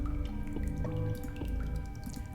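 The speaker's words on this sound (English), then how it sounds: "Plenty of hot water running through that pipe." Hot water running through a pipe in the Darkside Detective video game, a steady low rushing flow with light dripping and trickling ticks on top.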